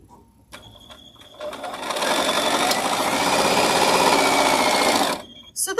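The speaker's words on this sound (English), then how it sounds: "I'm still sewing little Dresden blades." Sewing machine stitching small Dresden quilt blades, a rapid mechanical whir that starts up, runs steadily for about four seconds close by, then stops, with a few soft handling sounds around it.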